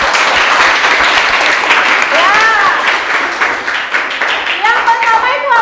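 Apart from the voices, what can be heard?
applause from students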